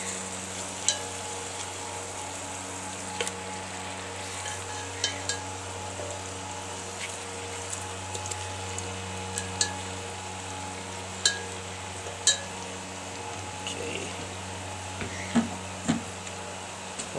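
Chicken pieces browning in a pot on a Cobb grill outdoors, giving a steady low sizzle and hiss with a continuous hum beneath and scattered faint clicks and pops, no talking.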